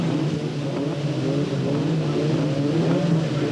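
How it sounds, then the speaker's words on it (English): Touring cars in the 1990 British Touring Car Championship, including a Ford Sierra Cosworth, rev hard together at the race start at Donington, a loud, steady wall of engine roar throughout. "And Sean Walker in the Sierra Cosworth, third from the left, makes a real flower of a start to lead Rob Gravitt's White Sierra."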